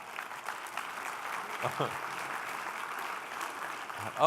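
An audience at the Oklahoma City Mayor's Development Roundtable gives moderate applause, a soft, steady patter mixed with murmuring voices and faint talk.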